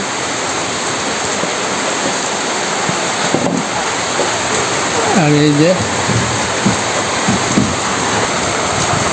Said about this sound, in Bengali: বাইরে প্রচণ্ড বৃষ্টি হইতেছে দেখেন